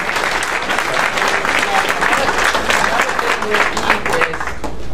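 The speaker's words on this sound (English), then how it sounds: "So please give Heath a big round of applause." A crowd at a Yamaha R1M owners event at MotoGP America 2017 applauds loudly and steadily, dense clapping filling the room throughout.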